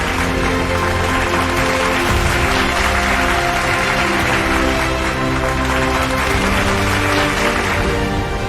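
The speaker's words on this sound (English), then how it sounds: "A huge round of applause for all our winners in the Gents Cut and Color Commercial category." A crowd at a hairstyling awards ceremony applauds the winners, a dense, loud and steady roar of clapping that fills the whole stretch without letting up.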